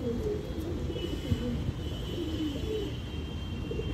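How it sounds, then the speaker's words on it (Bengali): A young pigeon coos softly and repeatedly in low, rolling warbles, heard close up over a steady background hum, with no one speaking. "বাচ্চা পায়রা, ডানায় ভাইব্রেশন দেখুন"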